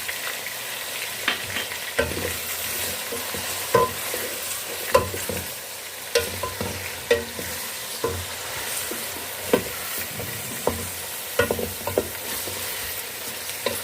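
Chicken with garlic and ginger paste fries in a pot for haleem under continuous sizzling, while a utensil stirs and scrapes in a repeated irregular rhythm of distinct knocks, close up, no voices.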